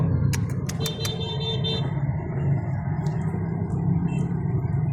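Steady road traffic rumble heard from inside a Grab ride car in heavy traffic, a continuous low engine and tyre drone with a few brief jangling clicks near the start.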